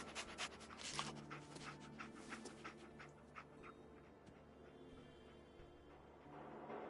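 Dogmeat, the dog companion in the Fallout 4 video game, panting in quick rhythmic breaths with a slight whimper, close but quiet over soft game ambience.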